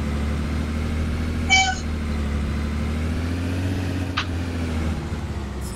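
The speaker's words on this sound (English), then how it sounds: "This bus sounds like a horse farting." Bus engine in the Rigs of Rods driving game, a low steady droning idle with a faint mid-range hum, plus a couple of brief higher chirps, no talking.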